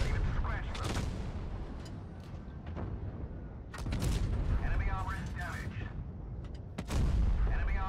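Heavy tank-destroyer cannon shots in the World of Tanks Blitz mobile game, several loud booming blasts spaced a few seconds apart, each with a sharp crack and rumbling tail over continuous engine and battle noise.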